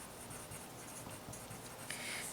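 Calculus notes being written by hand, a faint continuous scratching of pen strokes, close and quiet with no talking.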